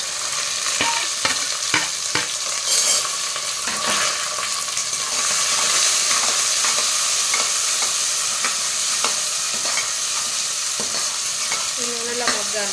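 Onion, tomato, capsicum, green chillies, peas and carrot frying in oil for veg pulav, a steady loud sizzle with scraping and clattering spoon strokes stirring the pan throughout.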